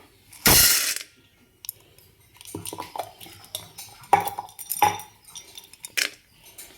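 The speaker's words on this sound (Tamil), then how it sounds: "பொட்டுக்கலையை வறுக்கணுங்க" Roasted gram (pottukadalai) is dry-roasted over a low flame in a kadai, with one loud opening clatter followed by intermittent rattling scrapes and light metallic knocks as it is moved around the pan.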